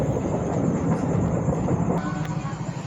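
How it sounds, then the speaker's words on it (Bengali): A Howrah–Bandel local train pulls out of Hind Motor station, heard from on board as a heavy, continuous low rumble with faint rattling that eases slightly toward the end. "ট্রেন এখন আমাদের ছেড়ে দিল হিন্দ মোটর থেকে"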